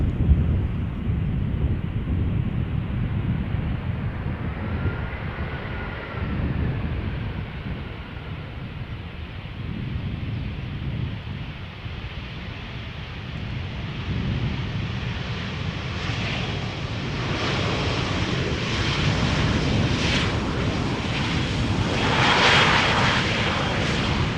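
A Turkish airliner, an eight-year-old plane on flight 1951 from Istanbul, rumbles in on approach to Schiphol Airport, a steady broad engine roar that builds and brightens toward the end, with some wind buffeting and no talk.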